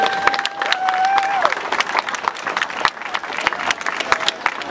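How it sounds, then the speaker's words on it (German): Audience applause at the opening of the community event Trittau bewegt sich in Trittau, a dense, steady clapping from a crowd that carries on for several seconds, with a brief whistle-like tone early on. "Das ist ein Applaus wert."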